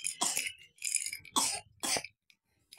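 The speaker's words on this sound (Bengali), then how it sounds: "বিশাল কাশি।" A person gives a run of four harsh, heavy coughs in quick succession, close by in an otherwise quiet village setting, ending in brief silence.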